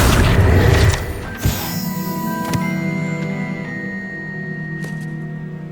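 An Accio summoning charm is cast in Hogwarts Legacy: a sharp whooshing burst and a couple of bright impacts, then lingering shimmering tones that slowly fade out.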